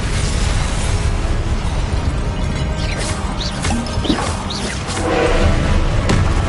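Confringo blasting spells explode in a wizarding video game. Loud, crashing booms and pops follow one another in a continuous barrage, close and forceful, swelling again near the end.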